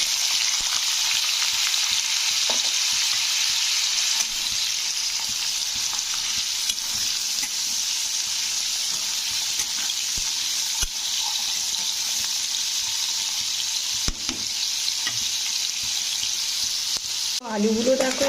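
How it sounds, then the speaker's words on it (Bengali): Potatoes and carrots fry in hot white cooking oil, giving a steady, even sizzle that holds close and loud throughout, with a few stirring clatters and a brief scrape near the end. "প্রথমে এখানে আলু আর গাজরটাকে ভেজে নেব।"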